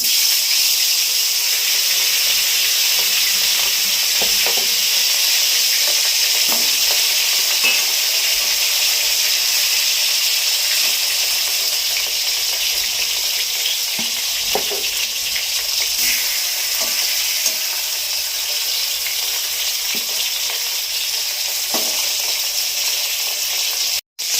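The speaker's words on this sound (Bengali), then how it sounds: "গরম হয়ে গেছে, এবার আমি মাথাগুলো ভেজে নেবো, এই কাঁটাগুলো।" Bhetki fish heads and bones fry in hot oil in a wok, making a constant loud hissing sizzle that runs throughout, broken now and then by soft spatters and stirring knocks.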